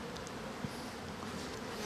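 Honeybees hum in a soft, steady buzz at a hive during the spring beekeeping season, with faint individual bees droning close by over a low, continuous background.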